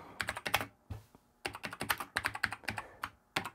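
Fingers type on the modern key switches of a Foenix F256K retro computer keyboard, with close, crisp keystrokes in quick bursts and short pauses between them.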